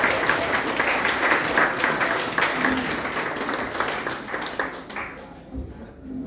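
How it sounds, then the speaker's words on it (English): Wedding guests clap for Dale and his outfits during the reception speeches, a lively burst of applause that gradually thins out toward the end. "So round of applause for Dale and his outfits"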